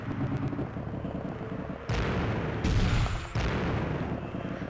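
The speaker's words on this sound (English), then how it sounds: "Okay, there are shots going on and grenades going off." Gunfire and grenade explosions in the video game Warhammer 40,000: Chaos Gate, a rumbling stretch of shots followed by loud booming blasts that break in sharply and linger in a dense, heavy roar.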